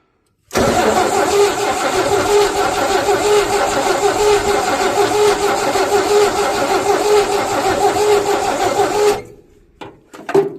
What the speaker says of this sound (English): First time in 23 years this motor's made any noise.